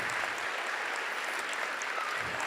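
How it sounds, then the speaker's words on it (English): Steady applause from a seated crowd at a charity fundraising gala, dense and even throughout at a moderate distance, with no talk over it. "Another round of applause"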